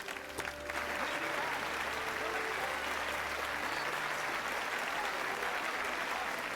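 A large crowd in a Final Fantasy XII cutscene applauds and cheers in a dense, continuous roar that holds steady for several seconds, with faint voices mixed in.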